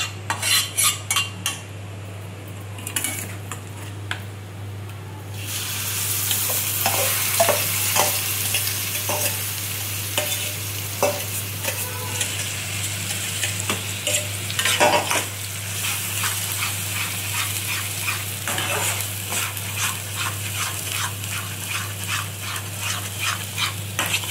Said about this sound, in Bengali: এই বাটাটাকে এর মধ্যে দেবো, দিয়ে নেড়ে চেড়ে নেব।